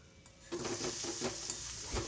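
Spice masala with onion paste and fenugreek being sautéed in a pan for Bengali egg curry, a soft steady sizzle with a few scraping stirs of a spatula, close and fairly quiet.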